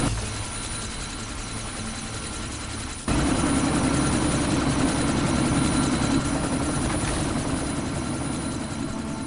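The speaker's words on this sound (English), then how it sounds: "That chopper's about to take off!" A helicopter in the Deus Ex video game spools up for takeoff, its engine and rotor droning steadily. After about three seconds the roar jumps louder and stays loud and continuous to the end.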